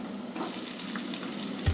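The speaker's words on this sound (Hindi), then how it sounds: "अब मैं इसमें प्याज डालूँगा।" Sliced onions hitting a hot oiled pan for baingan bharta, with a steady loud sizzle and frying hiss throughout and a slight stir or thump near the end.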